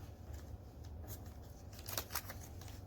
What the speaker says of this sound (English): tape these wings on here.